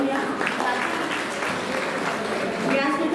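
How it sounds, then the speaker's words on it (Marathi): An audience at an award ceremony in a Rotary hall applauding to welcome a guest, a steady wash of clapping close by, with a voice speaking over it. "जोरदार टाळ्या वाजवून आपण एकदा स्वागत करूया"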